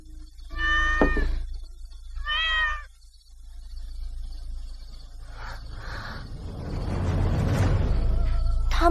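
Two newborn kittens mew in thin, high, wavering cries, two distinct calls early on followed by softer squeaks and rustling, close and fairly loud over a low background hum.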